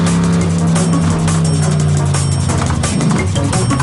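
Race car engine from the Marsupilami rally video game roaring loudly as it takes off fast, a sustained high-revving drone that holds steady throughout with a slight shift near the end.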